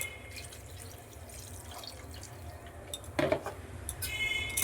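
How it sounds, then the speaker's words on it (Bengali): Water is poured into a pan of potato and cauliflower curry in a home kitchen, a soft continuous trickle with a few sharper clinks and splashes partway through. "আর একটু জল দেবো।"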